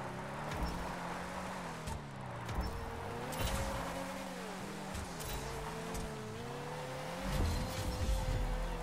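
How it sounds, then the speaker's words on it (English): A car drifting continuously in GTA Online, its engine whining up and down in long sweeping pitch swings with tire noise beneath, steady and close throughout. "I'm doing a drift like continuously."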